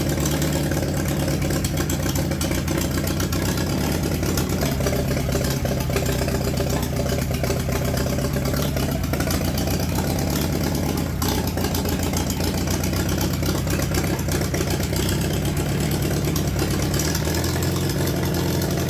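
An old, long-seized tractor engine cranks over and runs, a steady loud mechanical drone with a low rumble and knocking throughout, close by with no talk.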